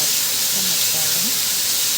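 Homemade tomato paste fries in a pan for dolma, giving a steady, bright hiss and sizzle that stays constant and close, with faint voices underneath.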